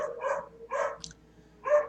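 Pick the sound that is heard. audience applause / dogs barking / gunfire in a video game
dogs barking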